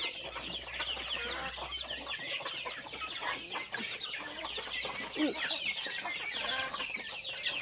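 Hens cluck continuously in a busy, close chorus, with overlapping calls and scratchy farmyard chatter throughout.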